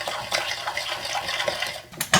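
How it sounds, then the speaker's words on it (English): A spoon stirs butter, brown sugar, vanilla and egg into batter in a bowl, giving a close, wet, scraping churn with soft clinks against the bowl across two seconds. "And let's stir that around."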